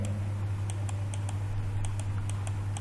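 Steady keystrokes on a computer keyboard while an SQL query is typed, a run of crisp evenly spaced clicks close by over a constant low electrical hum, with no talking.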